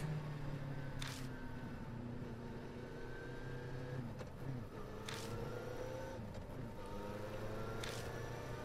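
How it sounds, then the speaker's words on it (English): Motorcycle engine in the video game Spirit Hunter: NG shifting gears, a steady engine drone with pitch steps as gears change, running continuously at moderate level with no talk. "I can actually hear the motorcycle change gears."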